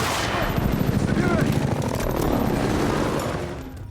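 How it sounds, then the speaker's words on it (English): Battlefield video game combat with constant gunfire popping both near and far, a dense continuous barrage of shots and rumbling explosions filling the scene at steady loudness before easing slightly at the end. "the pop of constant gunfire both distant and close"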